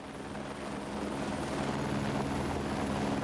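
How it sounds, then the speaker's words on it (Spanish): Steady, droning helicopter rotor and engine noise in the Alps as the aircraft tries to set down on a tiny landing pad on the Hochvogel mountain, continuous and moderately loud with no voices. "La pista de aterrizaje es tan pequeña que el helicóptero no puede posarse correctamente."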